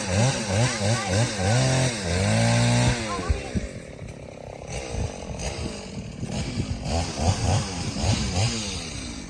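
A chainsaw buzzes and whines in bursts while cutting wood, its engine rising and falling, with voices talking over it at times.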